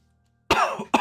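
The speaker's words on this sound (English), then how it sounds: "I cannot stop coughing this morning." Two sharp coughs from one person, close to the microphone, in the morning, the second following shortly after the first, with silence before.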